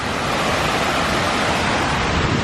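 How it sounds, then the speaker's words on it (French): A small mountain waterfall near Munduk, Bali, pours straight onto the ground below, making a loud, steady, close rushing and splashing roar with no break. "ça coule directement là où je pensais que c'était ça la cascade."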